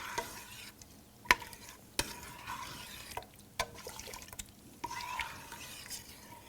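A spoon swirls and stirs corn jalapeño chowder in a pot, giving soft wet scraping with a few sharp clinks against the pot over a low simmering sizzle.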